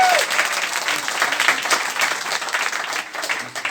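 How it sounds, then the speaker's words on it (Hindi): A large audience at a talk in a hall claps loudly and steadily in dense, sustained applause. The applause starts right away and holds for the whole stretch. "एक बार तालियां बजा दीजिए दम लगा के"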